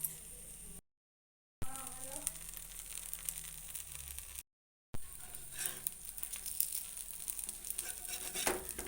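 Crab frying in a hot pan in a village kitchen, a steady sizzle with scraping stirs, broken by two brief silent gaps.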